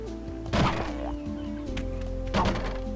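Barrels smashed in the Kao the Kangaroo video game give two short, hollow wooden thunks about two seconds apart over steady game music.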